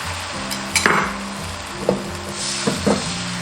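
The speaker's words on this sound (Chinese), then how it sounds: "然后倒入蛋液，换成一个大饼的形状。" Beaten egg mixed with a little starch slurry frying over low heat in a lightly oiled, hot pan, a soft steady sizzle with a few faint clinks and scrapes of a utensil.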